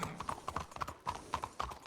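A four-horse wagon rolls past in a video game, hooves beating out a rapid, uneven clip-clop close by, with no talking.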